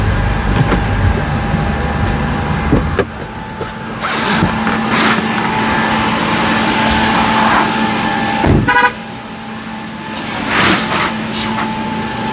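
An SUV drives slowly into a large inflatable paint booth, its engine a steady low rumble throughout with a brief horn-like toot and a few sharp bumps, while faint voices and a constant blower hum sit underneath.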